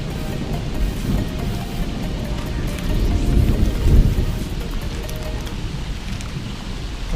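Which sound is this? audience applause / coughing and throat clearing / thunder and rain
thunder and rain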